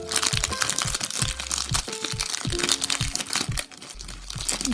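Plastic wrapping crinkles and crunches as it is peeled off a new Rubik's cube, a dense run of close, irregular crackling bursts with no talk.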